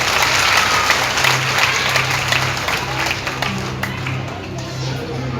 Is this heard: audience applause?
yes